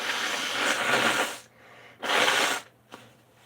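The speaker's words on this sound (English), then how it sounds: "pardon me, I need to blow my nose" A person blows their nose, two strong broadband honking blasts with a short pause between, close and loud, followed by a small sniff.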